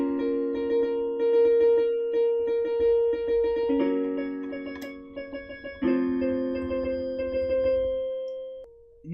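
A piano plays the bridge chords of a song, three sustained chord blocks changing every few seconds, clear and close, ringing out before a brief final note.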